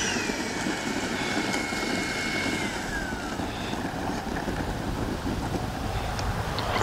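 Steady wind rushes across the mic at an RC jet flying field, a constant broadband roar filling the whole stretch, with a faint high engine whine sliding in the background and no talk.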